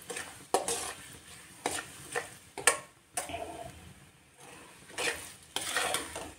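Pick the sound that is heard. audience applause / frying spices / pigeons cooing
frying spices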